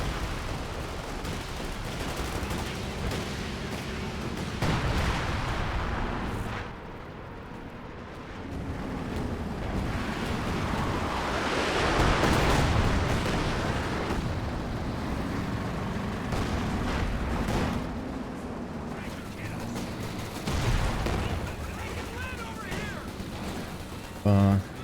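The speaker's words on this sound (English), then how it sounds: "And there's gonna be the triple barrage now." An artillery barrage in a strategy video game: dense rumbling blasts and crackling shell impacts layered into a continuous roar, with a caster talking over it throughout.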